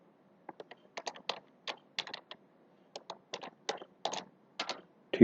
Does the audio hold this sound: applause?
no